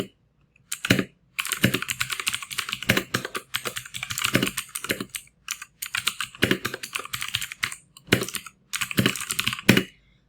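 Fingers type on a computer keyboard in quick bursts of close, crisp key clicks separated by short pauses, no voices over it.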